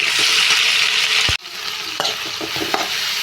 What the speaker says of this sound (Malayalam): ഇപ്പം തക്കാളിക്കായി നന്നായിട്ട് വഴന്ന് കേട്ടോ.